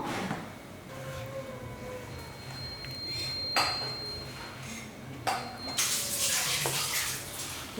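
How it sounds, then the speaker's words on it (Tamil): Water pours in short bursts into a cooking pot of gravy, splashing and trickling, with occasional metallic clinks of cookware; no talking. "இந்த குழம்புக்கு தேவையான அளவுக்கு தண்ணியும் இதிலே சேர்த்துடலாம்"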